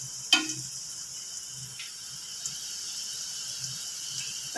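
Potatoes fry in oil in a kadai over a medium gas flame, giving a soft, steady sizzle with faint crackles and an early sharp clatter, close by and with no talking.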